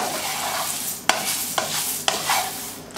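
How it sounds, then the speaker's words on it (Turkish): Melon seeds roast and sizzle in a pan while being stirred, with steady frying hiss broken by a few sharp scrapes of the spoon against the pan, close up and with no talk. "Şimdi kavun çekirdeğimiz hafif kavruldu, gevrekleşti."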